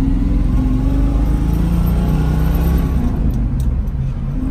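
A 1968 Mercury Cougar with a 289ci V8 and four-speed manual pulls away in a parking garage, its loud, steady low engine rumble filling the whole stretch and easing slightly near the end.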